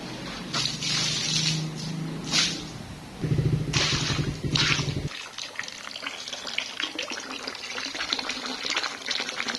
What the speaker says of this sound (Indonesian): Aku mau nyiram teras aku.